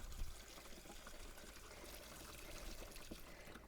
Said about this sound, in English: A flush through and a good shake.